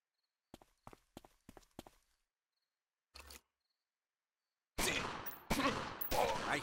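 Gunfire in the gangster strategy game Omerta: City of Gangsters: a few faint, sharp clicks spaced apart, then a sudden loud run of close, overlapping shots that fills the last couple of seconds.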